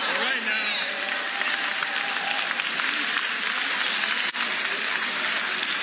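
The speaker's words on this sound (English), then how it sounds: "Y'all see the claps are getting lower and lower." Audience clapping at a live event, a steady broadband patter that stays even with no breaks, with a voice faintly over it.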